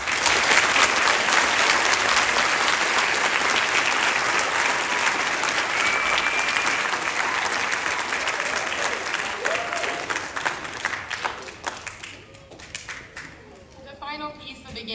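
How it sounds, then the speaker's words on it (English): An audience applauds beginning band students at a school concert, dense sustained clapping from a sizable crowd that gradually thins and fades, with a few voices surfacing near the end. "Let's give them another hand for doing an excellent job."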